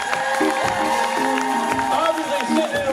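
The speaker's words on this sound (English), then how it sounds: "Round of applause for my buddy back here." Convention audience at a fan panel in Dallas applauding and cheering for a band member, dense clapping and crowd noise with whoops, under ongoing voices and tonal music from the stage.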